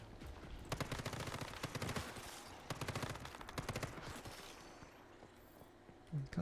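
A gun firing in the video game Once Human, with rapid automatic bursts of sharp, loud shots in a steady rhythm, pausing briefly, then resuming before a quieter tail.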